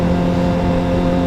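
A motorcycle's exhaust gives off a loud, steady drone with a strong, even engine tone. It holds constant throughout the short stretch, with no one speaking.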